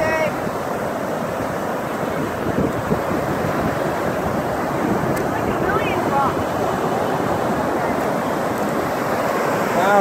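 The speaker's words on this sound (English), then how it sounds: "Wow, look at the beautiful ocean." Ocean waves washing over a rocky beach, a constant broad roar of surf mixed with wind buffeting the microphone, with faint bird calls above it.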